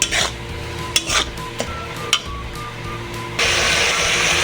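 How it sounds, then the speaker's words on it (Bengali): Spice paste with cumin powder fries in oil for a Bengali fish curry with eggplant and potato, stirred in a pan: a steady sizzle under sharp spoon clanks against the metal, then a louder, fuller sizzle near the end. "খুব ভালোভাবে আবারও মশলাটাকে ভালো করে কষে নেব।"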